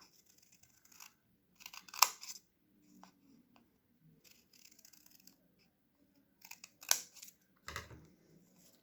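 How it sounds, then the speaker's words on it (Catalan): Scissors snip through folded paper along drawn lines while making a woven Danish Christmas heart, a few sparse close cuts separated by quiet pauses. "Una vegada tinc això, només fa falta retallar les línies"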